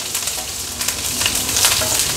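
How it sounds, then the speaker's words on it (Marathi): Mustard seeds, green chili and curry leaves crackle in hot oil for a tempering, a dense sizzle scattered with small sharp pops and brief stirring, close and without talk. "फोडणी छान आपली तडतडली आहे।"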